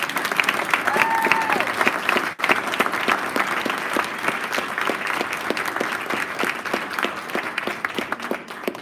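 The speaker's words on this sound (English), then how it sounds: "more round of applause for the students there for representing" A crowd at a school board meeting claps steadily and warmly for several seconds, a dense patter of many hands with no talking over it.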